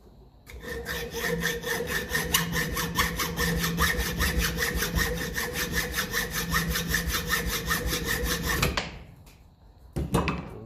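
A hacksaw rasps steadily back and forth through metal on a 1954 Ferguson TEF-20 diesel tractor in quick, even strokes for several seconds, close and loud, then stops abruptly; no voices.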